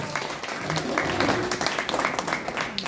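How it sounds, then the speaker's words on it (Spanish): A crowd applauds steadily for a few seconds, a dense wash of clapping that stays loud throughout, with a few voices mixed in, at a clown show during an adult birthday party. "¡Fuerte los aplausos para las niñas!"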